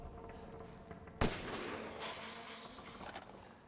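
A single sharp gunshot in the Resident Evil Village video game cracks out after a quiet stretch, followed by a lingering reverberant hiss; faint overall.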